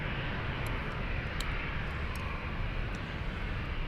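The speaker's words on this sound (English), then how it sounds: "So this is our first A380 takeoff on 26 left." Close and loud, an Airbus A380 thunders down runway 26 left at Munich airport on takeoff, a steady broadband engine roar that fills the whole moment.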